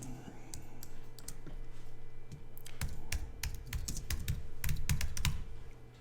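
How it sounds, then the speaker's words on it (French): Someone types a magazine name on a computer keyboard while laying out a page, producing a steady run of quick, close, irregular key clicks over a low background hum. "Et je vais taper le nom du magazine."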